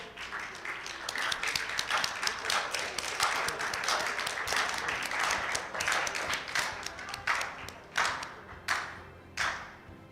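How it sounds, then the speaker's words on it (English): Audience members clap as a man from Berbice steps on stage to receive his plaque, a crowd of hands thinning out into sparse, distinct individual claps near the end. "Keep clapping, it's good"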